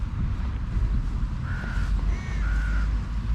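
A few faint crow caws, two or three short calls, rise over a steady outdoor wind rumble near a shopping center, with no one speaking.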